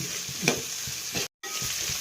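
A spatula scrapes and stirs through a thick, sizzling Kerala chickpea curry (kadala curry) in a pan, several strokes close up, with a brief cut to silence midway.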